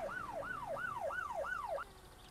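A wailing electronic police siren in the video game My Summer Car rises and falls in quick regular sweeps, about five cycles, then cuts off abruptly, leaving faint background hum.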